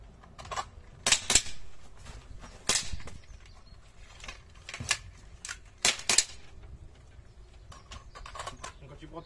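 Pistol shots at a shooting practice session: several sharp, fairly close cracks fire at irregular intervals, a couple in quick pairs, with quiet talk and background noise between them.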